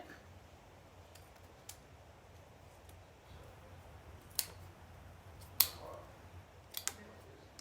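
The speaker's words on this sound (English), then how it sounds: "cut this down a little bit." Scissors snipping paper for a craft project, a few faint, sparse cuts spaced seconds apart against a quiet room, with no talk during the cutting.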